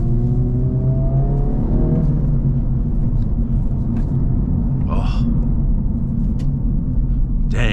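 A 2024 Acura Integra Type-S engine climbs steadily toward 7000 rpm, a rising rumbling whine heard from inside the cabin under steady road noise, with a brief spoken exclamation over it.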